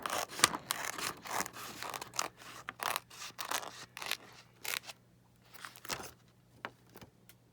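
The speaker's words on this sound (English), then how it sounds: "Now I'm just going to sit it on here and loosely cut it out." Scissors loosely cutting out a paper piece for alcohol-ink faux stained glass, a close series of crisp snipping and rustling cuts with brief pauses.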